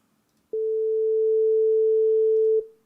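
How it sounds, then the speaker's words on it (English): A steady 440 Hz sine wave from Unreal Engine 5.6 MetaSounds sounds alone for about two seconds, a clean loud unbroken tone that starts with a click and fades briefly at the end. "That's a sine wave."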